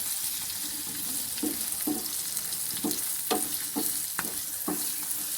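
Green chillies fry with spices in a pan, a steady sizzle broken by a regular series of scraping stirs against the pan, close and loud with no talk.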